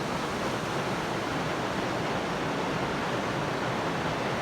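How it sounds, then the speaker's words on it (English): Pine Creek waterfall in Southwest Montana, heard from the top of the falls as a loud, dense, unbroken roar of rushing water with no voices. "I'm at the top of the waterfall right now"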